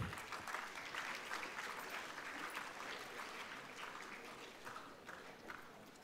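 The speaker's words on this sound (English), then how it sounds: "A round of applause, please." Applause from a conference audience of CA students at a special session: a steady, dense patter of many hands clapping, sustained throughout and slowly thinning toward the end.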